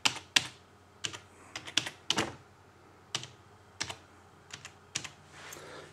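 Username and password typed on a computer keyboard, irregular bursts of close, crisp key clicks with short pauses between groups, no voices.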